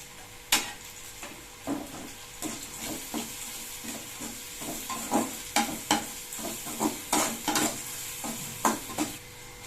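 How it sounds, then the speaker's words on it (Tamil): Onions salted and sautéing in a pan for a drumstick-leaf egg stir-fry, with a steady soft sizzle under repeated scraping stirs of a spatula at a near, even rhythm, no talk. "இப்போ வெங்காயம் வதங்கிடுச்சு."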